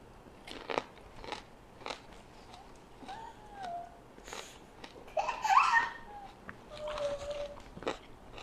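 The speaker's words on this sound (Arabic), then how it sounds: "ورجيكم شنو الاكل، اكل بصل احمر" Raw red onion being bitten and chewed close to the microphone, crisp crunches and wet chewing in irregular bursts, with some faint voice sounds mixed in.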